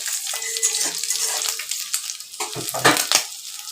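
A clove splutters and sizzles in hot oil for egg curry, a bright crackling hiss with scattered pops and a few louder bursts near the end, with no voices.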